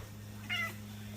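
A pet cat gives a single short meow, close and clear, over a low steady background hum with no talking.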